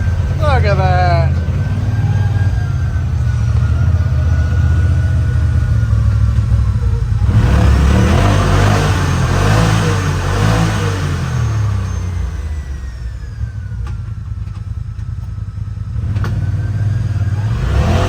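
Polaris Pro XP side-by-side with paddle tires driving through a big culvert in soft ground, its mid-pitched engine revving and rumbling steadily close by, swelling in the middle, with people talking over it.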